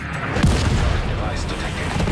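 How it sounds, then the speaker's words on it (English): Mortar rounds from a mobile launcher in The Division 2 thud with heavy booms. A continuous low rumble sits under a deep hit near the start, while a voice talks over it. "Mortars are coming from a mobile unit near the shoreline south of your position"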